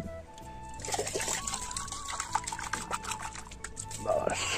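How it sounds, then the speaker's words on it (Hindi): Tap water trickles and splashes as a drinking glass is rinsed, a close, uneven pouring sound with a voice speaking over it. "अभी ग्लास को धो लेता हूँ"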